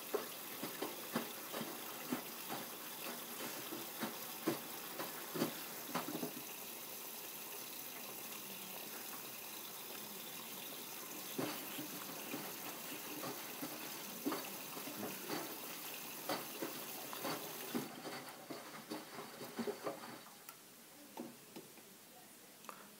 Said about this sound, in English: you can see the water running down the side